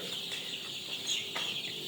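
Chickens on a poultry farm keep up a steady, close chorus of clucks and soft chirpy calls, with a couple of louder calls standing out briefly.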